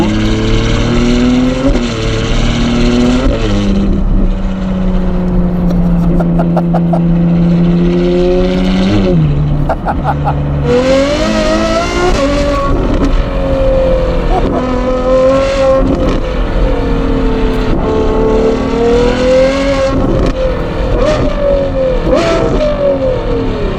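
A Ferrari 812 GTS fitted with a Novitec exhaust revs hard on a country road, its loud V12 bellow rising and falling through repeated climbs toward the red line, with no talk over it.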